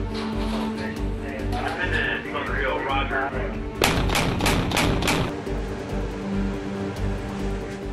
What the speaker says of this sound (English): As the ship uses its cannon to engage the ship, the drone evaluates each shot